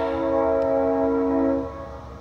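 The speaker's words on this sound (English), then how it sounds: "You actually got a train down there." A train horn blows one sustained, loud chord for under two seconds, then cuts off, leaving a low rumble of the train, heard from above near Lumby.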